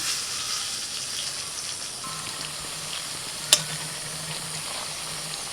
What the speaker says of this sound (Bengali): একদম হালকা আঁচেতে আস্তে আস্তে করে ভাজতে হবে